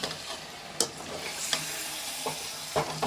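Chicken for a Sunday kulambu is stirred in a sizzling pan, a soft frying hiss broken by several sharp scraping strokes of the spoon at irregular intervals.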